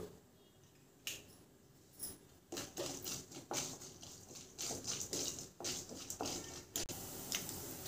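Mustard seeds with chana dal and urad dal spluttering in hot oil for jeera masala rice, sharp irregular pops and crackles that burst in clusters, close and fairly quiet.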